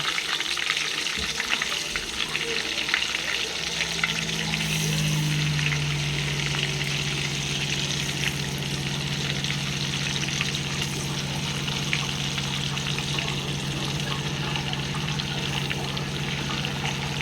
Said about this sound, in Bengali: তেল গরম হয়ে গেছে, এবার এক এক করে মাছ ছাড় দিন।